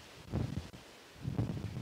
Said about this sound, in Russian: Когда такой ветер, это просто жесть